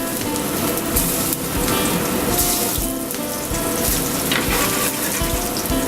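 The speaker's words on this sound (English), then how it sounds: "Now that our pan and our butter is good and hot, you want to carefully add your tomatoes to the pan." Green tomatoes sizzle and crackle in a pan of hot clarified butter, a steady dense frying hiss that stays close and loud throughout, with no talking.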